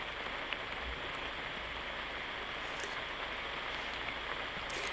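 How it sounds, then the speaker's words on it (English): Heavy rain pours steadily over a disc golf course during a humid round, a dense, even hiss that holds without letup for the whole stretch, with no voices heard. "even though it's pouring down rain"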